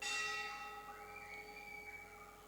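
A single church bell strikes once, loud at the start and then ringing out in a long, fading, shimmering hum that lingers faintly to the end.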